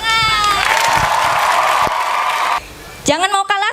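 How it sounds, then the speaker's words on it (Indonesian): Children at a kindergarten memorization parade clap and cheer together in a loud, continuous burst. A single sung tone runs over it, then it cuts off and an adult voice speaks. "Tepuk tangan."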